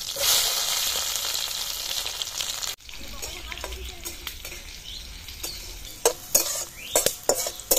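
Crushed garlic drops into hot oil tempered with black cumin and dry chillies, a loud sizzle at first that settles into quieter frying, followed by several sharp clinks of a utensil against the pan.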